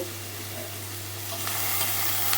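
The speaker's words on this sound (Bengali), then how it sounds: "লবণ আর হলুদ দিয়ে দিচ্ছি" Potatoes fry with salt and turmeric in a pan, a steady close sizzle as a utensil stirs them, the hiss swelling slightly toward the end, no talk.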